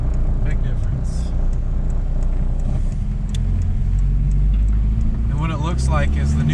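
Tuned diesel vehicle engine running with a continuous deep drone and rattle from inside the cab, while people talk over it.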